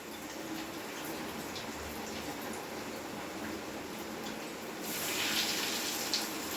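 Cheese chicken balls fry in hot oil in a pan, giving a steady, soft, dense sizzle and bubbling that swells a little louder toward the end, with no talking.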